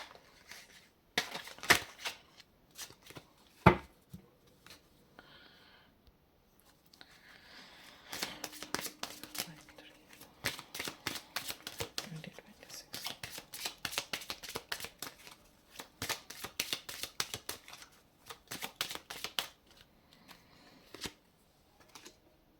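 Tarot cards are shuffled by hand, with close, quiet bursts of rapid riffling and flicking clustered into irregular runs and a few sharper taps between them, with no talk.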